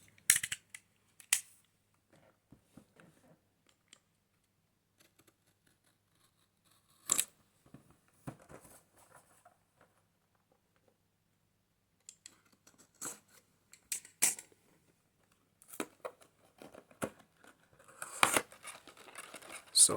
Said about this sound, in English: We have some tape here that we have to cut.